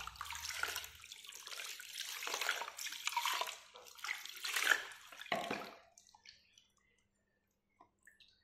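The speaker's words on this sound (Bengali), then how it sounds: "তো গরম জলে ভালোভাবে এখন ধুয়ে নেব।" Old artificial flowers being washed under hot running water, a steady splashing stream that fades out after about five seconds into near silence with a few faint drips.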